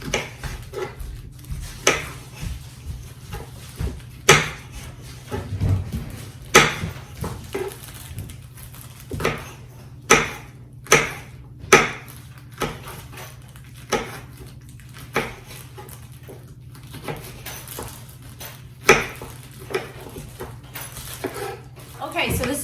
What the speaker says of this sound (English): you're going to slice your jalapenos